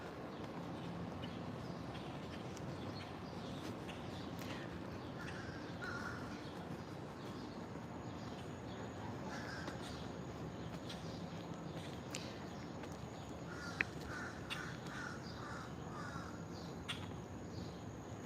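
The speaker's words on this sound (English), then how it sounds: "And the birds, these birds are fully out now." Crows cawing outdoors on a morning walk through a town square, several calls scattered near and far over steady ambient background hum.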